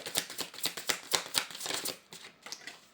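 Oracle cards shuffled by hand for a reading, a quick run of crisp riffling flicks close up, steady through most of the stretch then thinning to scattered taps, with no talking.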